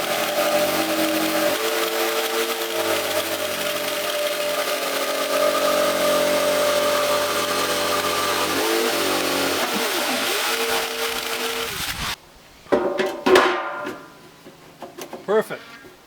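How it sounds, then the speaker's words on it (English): A jigsaw, also called a saber saw, cuts a sink opening in wood for a homemade mud kitchen. It makes a steady, loud, buzzing motor rasp for about twelve seconds, then stops and is followed by a few short knocks and clatter. "that gives me a place where I can put this this jigsaw or saber saw into place, and I can cut out the hole for that sink."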